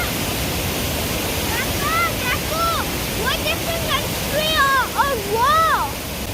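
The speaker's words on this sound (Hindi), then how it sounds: "ये असल में पानी की आवाज़ है। कि पानी का यहाँ पर फ्लो जो है बहुत तेज़ है" A fast-flowing river in Switzerland roars loudly and continuously, with chirping birdsong rising above it.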